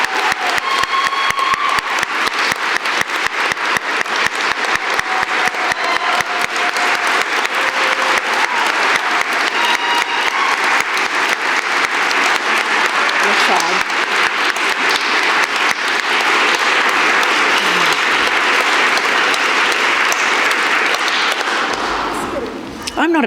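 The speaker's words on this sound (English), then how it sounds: "can we have one more round of applause, please, for our 2019 University of Queensland" An audience at a University of Queensland Aboriginal and Torres Strait Islander sashing ceremony claps in a long, sustained round of applause. It stays loud and full for over twenty seconds and then tapers off at the end, with faint voices underneath.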